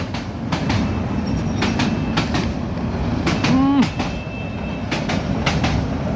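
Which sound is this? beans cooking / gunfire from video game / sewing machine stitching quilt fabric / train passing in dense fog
train passing in dense fog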